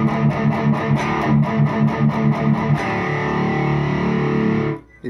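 Distorted electric guitar through the Direct Out of a Boss Katana 100 MkII amp, a run of rhythmic chugged chords followed by a long sustained ringing chord that cuts off abruptly, loud and with no talking.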